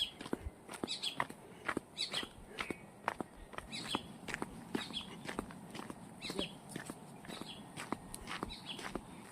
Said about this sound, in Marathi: छान पक्ष्यांचा आवाज येतोय.